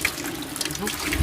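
Water gushes out fast in a brief, close rush, with voices talking over it.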